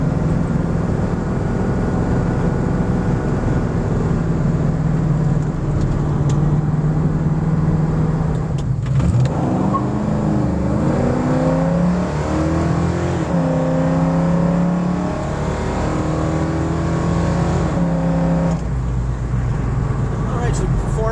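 A 1971 Ford Mustang Grande on wide 285 tires in cold weather accelerates hard through three quick gear changes, its loud, close engine note climbing and dropping with each shift, with a voice talking over parts of it.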